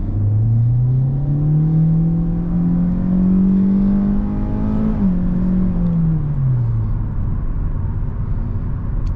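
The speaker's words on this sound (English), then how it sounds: "let's go ahead and do an acceleration right here" Engine of a 2024 Hyundai Elantra heard from inside the cabin as it accelerates, a loud steady drone rising in pitch, dipping briefly at a shift, then easing off over a constant road rumble.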